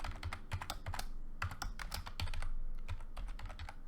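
Rapid clicking keystrokes on a computer keyboard while a password is entered during user setup, an uneven run of close, crisp taps with a low hum underneath and no speech.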